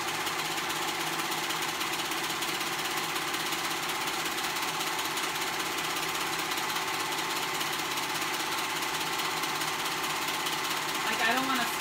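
A serger overlocking fabric for children's pajamas runs continuously at close range, a steady dense mechanical whir and rattle throughout, with a person talking over it.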